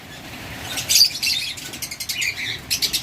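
Pet lovebirds in a cage: bright, high chirps come in quick bursts with short gaps, mixed with a light flutter of wings, close and moderately loud, with no voices.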